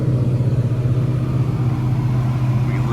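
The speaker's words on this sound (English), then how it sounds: "listen to that purr of the Cummins V8 engine" Cummins V8 engine of a Massey Ferguson 4900 tractor pulling a Krause disc, heard as a steady, loud, low droning hum from close by without any revving.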